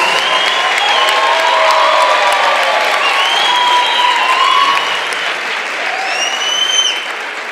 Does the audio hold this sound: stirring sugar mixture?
no